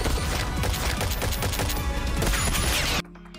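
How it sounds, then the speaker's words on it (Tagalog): Dense, rapid gunfire rattles nonstop in a TV drama shootout between two groups at a hideout, a loud, continuous barrage of overlapping shots that cuts off abruptly near the end. "Nagpalitan ng putok ng kani-kanilang mga baril ang dalawang grupo."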